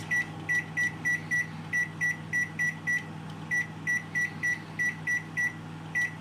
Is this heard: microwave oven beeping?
yes